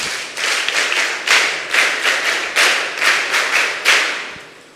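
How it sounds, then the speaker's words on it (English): A small group claps at a mentorship session, close and fairly loud, the separate claps coming in uneven bursts with no voices over them. "Come on, give him a round of applause."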